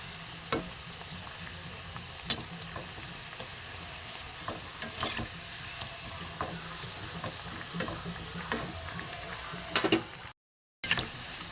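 Balushahi sweets deep-frying in oil, a soft, even crackling hiss that runs steadily with scattered faint pops and clicks, dropping out briefly near the end; quiet and without speech.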